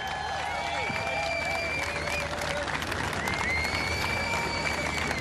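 Crowd applauding and cheering at the start line of the RAK Half Marathon 2018 for the elite women runners, a steady dense wash of clapping and cheers with whistles and a voice over loudspeaker mixed in.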